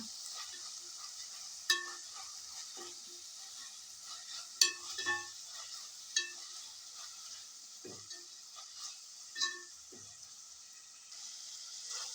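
Chopped tomatoes and coriander sautéing in a pan for chicken gravy, a soft continuous sizzle broken by a series of spoon scrapes and knocks against the pan at irregular intervals.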